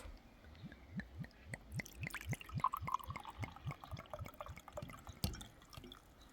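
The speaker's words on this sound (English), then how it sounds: "let's just try to pour some out and see how it is" Naturally carbonated probiotic rhubarb drink poured from an opened bottle, with a rapid run of close glugging pulses and a wet, bubbly trickle throughout, followed by a sharp knock near the end.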